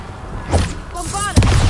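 A fire spell cast in a video game: a shouted voice calls the spell, then a loud, close blast booms and thuds at the end.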